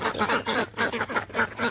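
Several village ducks quack close by in rapid, overlapping bursts that repeat steadily and loudly.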